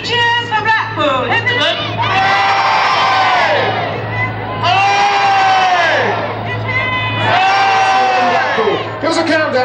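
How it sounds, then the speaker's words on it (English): At the Blackpool Illuminations in 1991, a large outdoor crowd shouts three loud, long rising hurrahs, each swelling and fading before the next, with a steady low hum underneath. "So three cheers for Blackpool."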